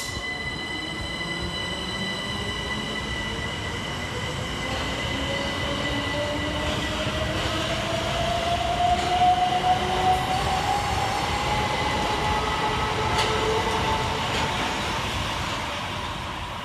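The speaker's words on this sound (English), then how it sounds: "Next to depart for the station is 377449 and 377402, working the 1720 Southern Railway service from London Victoria to" Southern Railway Class 377 electric trains at Preston Park station roll through with sustained loud wheel squeal over a steady rail rumble. The sound lasts throughout, rising in the middle and easing toward the end, with no voices.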